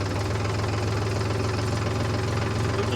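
A Mahindra tractor engine runs close by with a steady, even diesel chug and a low knocking pulse, holding constant without talk over it.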